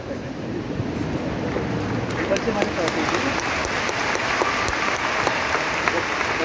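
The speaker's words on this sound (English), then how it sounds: "That's why you're clapping, it's all right." A large audience at a public speech event in Delhi claps and applauds, a steady dense wash of hand claps sustained throughout, with a voice faintly beneath.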